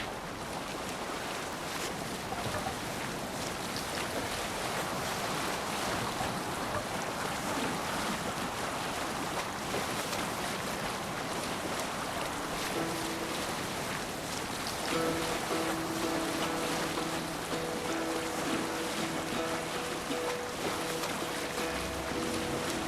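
A Viking longship under sail at sea in Assassin's Creed Valhalla, with steady rushing wind and waves washing against the hull, a continuous broad noise that later carries faint tonal hums.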